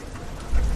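Heavy, continuous rain hisses in a dense, even wash, with a low rumble swelling near the end of this very short stretch and no voices.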